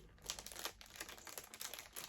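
A small plastic bag holding a 1991 Disney Afternoon pin crinkles and rustles in close, irregular bursts as it is opened. The sound is faint, with no talking.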